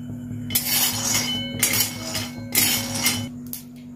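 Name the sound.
raw peanuts being dry-roasted in a wok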